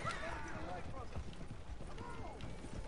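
Horse hooves clip-clopping beneath a moving wagon in the Western game Red Dead Online, a continuous muffled trotting rhythm under constant talk.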